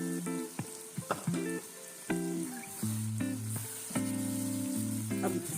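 Mutton karahi with tomatoes and yogurt sizzles as it fries in a wok, a continuous crackle running beneath prominent melodic music with plucked and sustained notes.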